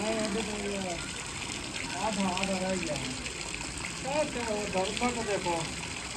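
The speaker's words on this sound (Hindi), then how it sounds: "पहुँच गया पानी" Water gushes steadily through a pump pipe in a village, a loud constant rushing hiss that fills the whole stretch, while several people talk over it.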